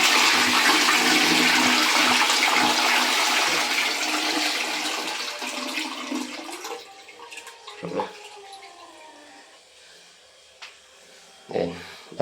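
A household toilet tank flushes in a loud rushing surge that gradually fades into trickling and refilling water, with a few clunks near the end.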